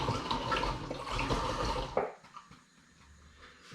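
A litre of liquid for a banoffee-flavoured hard cider pours steadily for about two seconds, then fades to a softer trickle and quiet, close by with no voices.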